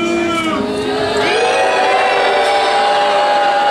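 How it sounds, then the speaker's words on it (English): A young audience of children booing a costumed performer in a loud, sustained crowd noise of many overlapping voices, with rising and falling shouts and whoops throughout. "They're all booing you."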